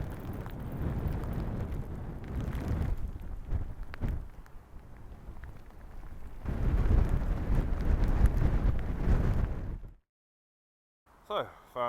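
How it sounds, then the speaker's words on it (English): Rain and wind roar outdoors on an ultralight fastpacking trip, with gusty, buffeting wind noise surging and easing. A louder stretch comes late, then drops to silence before a short burst of sound returns. "It's still raining, but it's not too bad."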